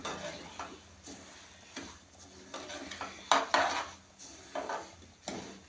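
Quiet, intermittent scraping strokes come from a spoon stirring a mixture with butter in a pan over low heat, with occasional faint utensil clinks against the metal.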